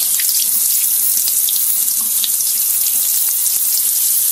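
Running tap water rinsing a tonearm from an RCA 9-EY-3 45 record player, a loud, close, steady splashing rush with no talk.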